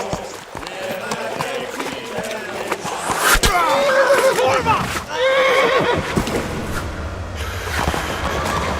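A horse neighs loudly twice in the video game Kingdom Come: Deliverance, amid galloping hoofbeats and action noise, with voices shouting over the commotion.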